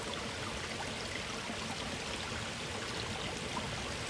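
Woodland river flowing in a steady, close, broadband rush of water with no breaks, and no other sounds or voices.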